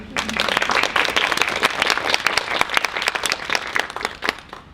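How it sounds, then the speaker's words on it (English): Audience applause at a literary review's unveiling party, a dense burst of many hands clapping steadily and close, filling the room for the whole stretch before tapering slightly at the end. "Please give him a round of applause anyway."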